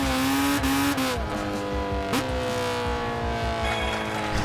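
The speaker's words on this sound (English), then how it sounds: "Listen to how this car sounds when the throttle's down." A race car engine in the video game Gran Turismo 6, drifting at Autumn Ring, roars at high revs, its pitch dipping and climbing as the throttle shifts, loud and continuous with a brief squeal.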